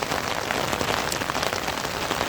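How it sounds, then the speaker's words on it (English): Steady rain pours onto a clean road beside a large pond, a dense, even hiss of countless drops close around with no break and no voices. "it is raining continuously"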